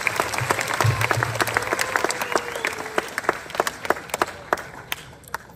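Audience at a Tamil debate forum in Jaffna breaking into applause for a speaker, a burst of many hands clapping that starts dense and loud, then thins into scattered claps as it fades out.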